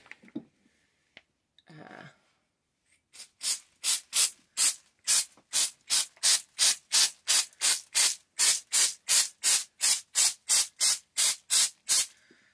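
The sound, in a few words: spray painting countertop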